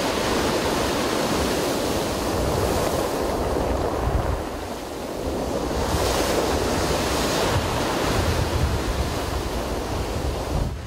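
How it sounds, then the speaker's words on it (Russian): Black Sea waves wash up a pebble beach in Sochi, rolling stones with a continuous roaring hiss that swells and recedes, steady and close, with wind buffeting the microphone. "Слушать перекатывание гальки морскими волнами"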